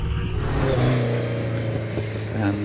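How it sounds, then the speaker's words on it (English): A Ferrari Dino 308 GT4 with a transverse mid-mounted 3-litre V8 races at the Harewood hillclimb, its engine note rising and shifting steadily as it rounds a bend, with a commentator talking over it. "Picking up Anthony Atwood in the Ferrari Dino 308 GT4, rounding Farmhouse"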